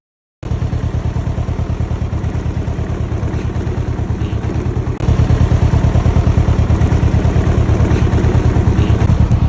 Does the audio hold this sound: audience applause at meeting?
no